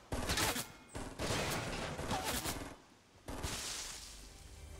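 Fortnite Battle Royale gunfire in the middle of a town, fairly quiet overall, with dense bursts of shots in a few clustered volleys separated by brief lulls, and no talk over it.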